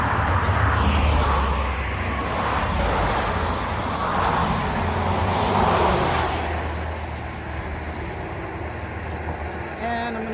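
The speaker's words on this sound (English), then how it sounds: "I'm on my trusty little red motorbike" A small red motorbike rides along a road on the Olympic Peninsula in the Pacific Northwest in autumn, giving a steady, loud engine and wind roar that eases slightly toward the end.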